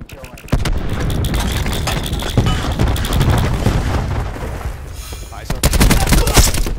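Cluster grenade blasts and rapid gunfire in Call of Duty: Black Ops 4 team deathmatch on Payload: loud, dense bursts of shots and booms that run almost continuously, with brief in-game voice callouts.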